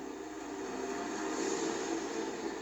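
Emergency Army helicopter from Fort Hood flying over rising floodwater, a steady broadband rotor and engine roar holding constant at moderate distance with no voices.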